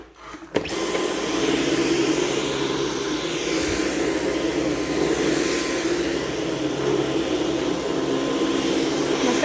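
A Dyson V11 Absolute cordless vacuum cleaner switches on and runs, giving a loud steady motor whine with airflow roar that holds constant for the whole stretch, with no talking.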